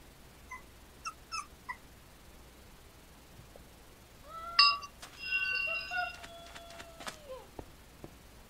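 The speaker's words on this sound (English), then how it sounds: "This is our new dog." A dog whimpers and yips in a series of thin high whines, a few short cries at first, then a longer wavering whine, fairly faint over a quiet room.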